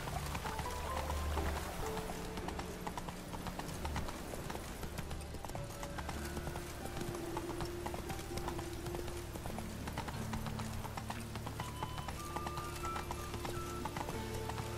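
Horse hooves clip-clop in a video game, a quiet steady gait that runs unbroken over soft background sound.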